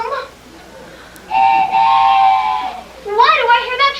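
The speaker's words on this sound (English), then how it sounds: "Why do I hear that train whistle?" A train whistle sound effect in a 1988 stage play sounds as a sustained, steady whistle tone of about a second and a half, followed by a voice.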